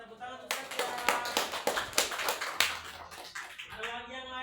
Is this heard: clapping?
yes